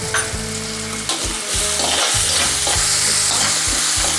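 Coarsely ground green chili and garlic paste hits hot oil in a pan, a loud close sizzle with repeated scraping stirs.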